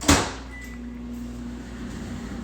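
A microwave oven in a home kitchen stops with a sharp click as its door pops open, leaving a low steady hum in the room afterward.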